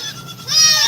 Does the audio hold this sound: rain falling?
no